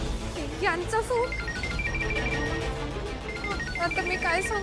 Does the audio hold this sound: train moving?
no